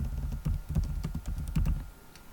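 Someone types on a computer keyboard close by, with quick, uneven clusters of key clicks over about two seconds and no talking.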